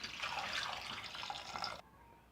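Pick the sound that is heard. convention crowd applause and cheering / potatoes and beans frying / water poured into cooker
water poured into cooker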